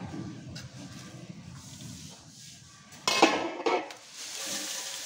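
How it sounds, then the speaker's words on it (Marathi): Fried chivda ingredients slide and clatter from a wide metal plate onto roasted thin poha, a loud rattling burst with a second smaller spill against soft kitchen background noise. "तर हे ना आता हे पोह्यांवरती ओतून घ्यायचे."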